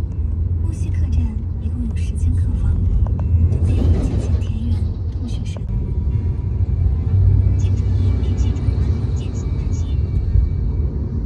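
A car driving on a road in rural China, heard from inside as a steady loud engine and tyre rumble throughout, with a person talking over it.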